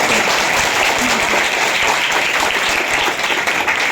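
A crowd claps louder at a Seerat un Nabi quiz event, producing a sustained, dense roar of applause that stays strong from start to finish, with some voices mixed faintly beneath.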